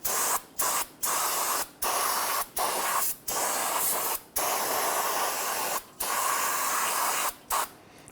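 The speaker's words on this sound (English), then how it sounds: "let's go ahead and spray this down with some spray solvent." Repeated bursts of aerosol solvent spraying onto the rear brakes of a Nissan Frontier, hissing in long, steady blasts separated by brief pauses, close and fairly loud.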